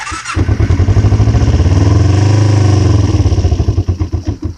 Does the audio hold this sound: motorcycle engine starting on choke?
yes